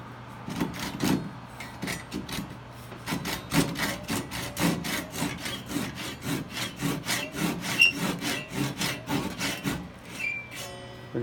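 A hand saw with rip and crosscut sides cuts a wooden rail at the stern of a small Alcort Super Sailfish sailboat, with rapid, even back-and-forth strokes, close and loud throughout.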